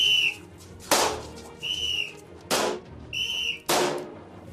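During police shooting training, several sharp, sustained whistle blasts ring out, alternating with loud, close gunshot cracks in a steady back-and-forth pattern.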